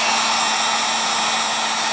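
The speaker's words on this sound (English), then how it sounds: "Depends how I hold the heat gun." A heat gun blows a steady, close, hissing roar of air onto a kydex sheath, constant and unbroken with no talking.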